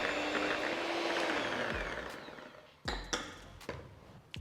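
An electric mixer beats matcha cheesecake batter in a bowl, a steady whir that slows and winds down, followed by a few sharp knocks and taps.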